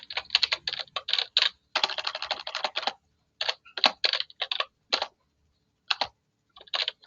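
Quick clattering keystrokes on a computer keyboard as a username is typed into an input field, coming in close irregular bursts with short pauses and no talk.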